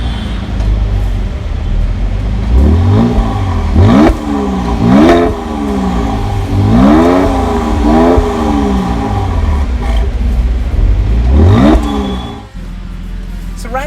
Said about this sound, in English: let me just show you how this engine sounds